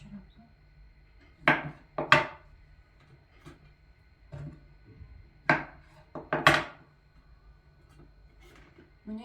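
A knife slices through bananas on a board in several distinct cutting strokes, arriving in two pairs of sharp, close chops with quiet gaps between, the fruit being cut up for drying.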